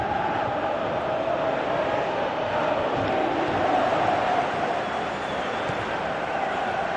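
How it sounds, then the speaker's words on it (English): Steady football video game stadium crowd roar fills the whole stretch, a dense continuous murmur of many voices with a slight swell midway, no single voice standing out. "you can feel and hear how the crowd are reacting to all of this"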